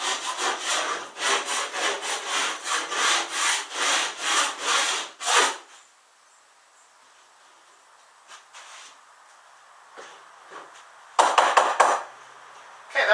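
Splintered wooden edges for a lathe bench are worked over with a hand tool, giving about ten rhythmic rasping strokes in a row, then a pause with faint scrapes, then another short burst of strokes.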